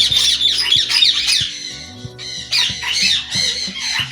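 A breeding pair of ringneck parrots with two eggs squawks loudly and harshly in rapid, continuous bursts, close up, with no talking.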